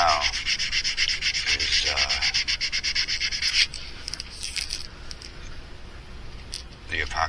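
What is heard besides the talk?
sanding down epoxy filler on a fishing lure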